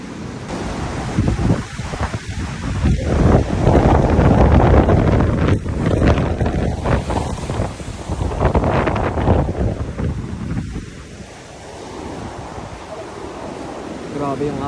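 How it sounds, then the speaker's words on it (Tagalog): Strong ocean waves surge and crash on the coast at Enoshima, Japan, with heavy wind buffeting the microphone, loud and close, swelling and easing. "Grabe yung alon guys."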